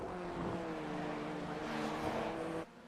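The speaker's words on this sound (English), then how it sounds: "Listen to the engine work" A race car engine in a racing video game, heard on board, drones steadily and fairly loud with a constant pitched hum for several seconds before cutting off abruptly.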